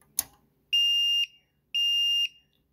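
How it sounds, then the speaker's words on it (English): A sharp click, then two long, steady high-pitched electronic beeps from a NEXPOW 12V 2000A car jump starter under load, separated by a short pause, loud and close in an otherwise quiet space. "it doesn't like a load on the battery pack and it starts beeping"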